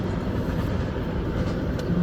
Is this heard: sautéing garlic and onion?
no